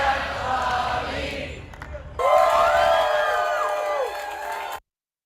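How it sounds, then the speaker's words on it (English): Live audience at a World Environment Day event erupts in loud cheering, whoops and shouting, a sustained burst of crowd noise that rises suddenly and holds for a few seconds before cutting off. "Let me get the claps in there"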